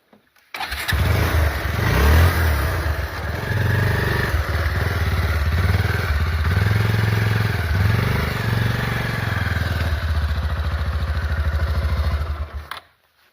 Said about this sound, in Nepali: म तपाईँलाई बाइक पनि चलाएर देखाउँछु है त